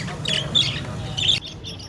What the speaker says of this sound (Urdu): خوبصورت رنگوں اور پرسرور آواز میں چہچہاتے پنجروں میں قید مختلف پرندے